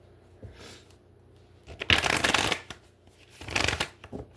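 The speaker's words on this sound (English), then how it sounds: "I'm going to do 3 shuffles and get to it here." Tarot cards riffle-shuffled in a few quick bursts, close up, with brief pauses between the crisp fluttering sweeps.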